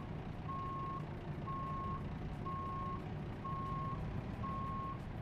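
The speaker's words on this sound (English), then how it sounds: "I'm driving, you can hear it. It's a truck." A Volvo truck in a truck simulator game backs up, its reversing alarm beeping five times in a steady, evenly spaced rhythm over a constant low engine rumble.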